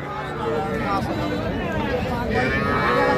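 A Sahiwal heifer calf moos at the Raniganj cattle market, a drawn-out low call rising over constant crowd chatter and other livestock sounds close by.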